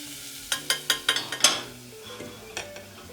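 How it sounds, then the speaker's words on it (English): Onions sautéing in a pan for a tuna antipasta dish, with a quick run of six or seven spoon scrapes and taps against the pan over a soft sizzle, then one more light knock. "Let's give this another stir up in here."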